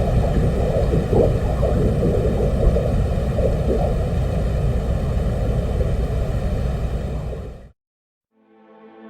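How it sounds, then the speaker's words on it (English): Venus surface recording from a 1982 Soviet lander's microphones: a dense, rumbling windy roar with a low gurgling texture that cuts out abruptly near the end, followed by a faint thinner tail. "On March the 5th, 1982, the Soviet Union landed a probe on the surface of Venus, and it was equipped with microphones."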